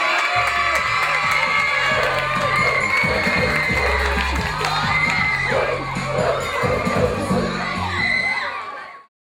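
Crowd on Harbour Island cheering, shouting and whooping with applause, a loud continuous roar full of high voices that holds steady, then cuts off abruptly at the end.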